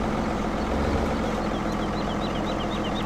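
A tractor engine in Farming Simulator 2017 labours under a heavy load, a dense constant rumble with a strained, wavering high whine riding on top, loud and alone.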